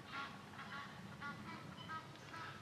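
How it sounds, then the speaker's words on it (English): Distant geese honk repeatedly in a loose rhythm at night, faint and somewhat muffled over a soft background hiss. "Shouldn't have mentioned the geese, they started."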